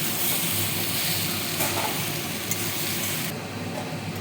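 Cooked rice stirred into a pan of fried spice mix with turmeric and Kashmiri chilli powder for tomato rice, giving a steady close sizzle with light scraping, continuous and fairly loud without talk.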